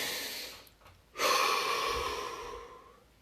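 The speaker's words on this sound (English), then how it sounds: "Take a deep breath." A single deep breath during a guided body-relaxation exercise: a long, airy inhale or exhale that starts abruptly and fades slowly. It is close and clear over a quiet background, with no talking.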